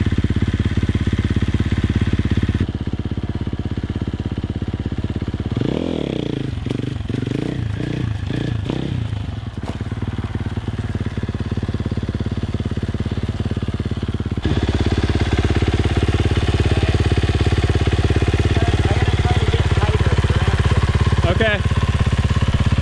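A dirt bike engine idles steadily, then revs in a quick series of rising bursts during circle wheelies, with clattering and scraping. The engine drone stays loud throughout.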